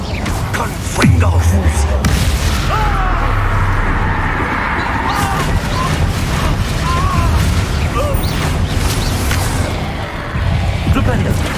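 A Confringo blasting spell explodes in Hogwarts Legacy with a booming burst near the start, followed by a dense, continuous wash of combat effects and rumbling impacts at steady loudness.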